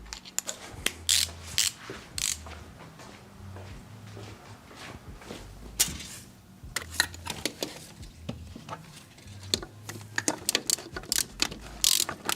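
A ratchet wrench with a 10 mm socket works on a Nissan 200SX engine in a garage, giving close, intermittent bursts of sharp ratcheting clicks separated by short pauses and quieter handling noise.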